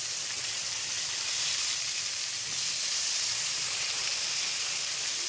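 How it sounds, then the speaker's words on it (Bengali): Whole pointed gourds (potol), slit and partly peeled, sizzle in hot oil seasoned with salt and turmeric, a dense continuous hiss that holds even and close throughout. "এইবারে পটলগুলো আমি তেলের মধ্যে ছেড়ে দেবো, তাহলে আর তেলটা ছিটকাবে না"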